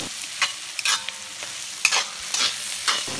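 Chicken and onions with a little turmeric stirred and sautéed in a pan for chicken curry, with a soft frying hiss under repeated scraping strokes of a spoon, close and alone.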